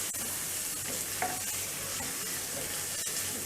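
Cabbage pieces and noodles stir-fried in a pan, giving a continuous loud sizzle with scraping stirs.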